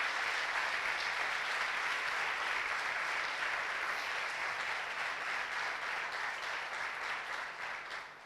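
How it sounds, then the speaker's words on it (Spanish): A church congregation applauds loudly and continuously, a dense wash of many hands clapping that holds steady before easing slightly at the end. "Dale un aplauso fuerte a Jesús."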